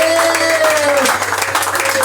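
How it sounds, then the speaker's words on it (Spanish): A church congregation claps during a Spanish-language worship service, with a sustained tone, likely music, running underneath. The clapping is fairly loud and continuous, and some voices mix into the crowd sound. "Dale un aplauso al Señor Jesucristo."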